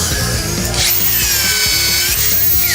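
A power tool torques a bolt until it snaps off, giving a loud, close whirring drive with a rising high whine and rapid rattling bursts.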